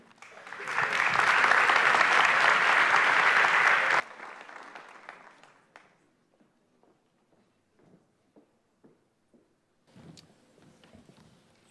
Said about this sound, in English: round of applause, part 2